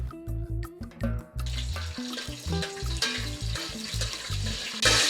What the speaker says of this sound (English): So we just saute this for around 30 seconds